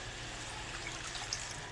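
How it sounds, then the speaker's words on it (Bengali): Water is poured into a pot of rice grains already fried for khichuri, giving a faint, steady rushing pour that lasts throughout without a break. "এখন পানি দিয়ে দেবো ঢেলে।"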